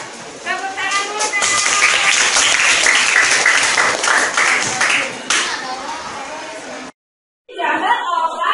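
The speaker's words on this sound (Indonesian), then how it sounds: "Tepuk tangan dulu." Schoolchildren in a classroom clap for a classmate called to the front, brisk close handclaps mixed with children's voices, fading out before a brief silence and a burst of other sound.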